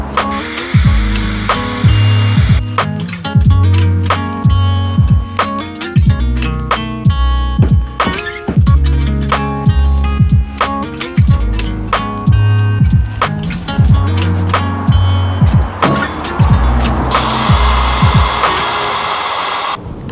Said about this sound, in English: I'm also going to drill a hole and put some really thick dowel in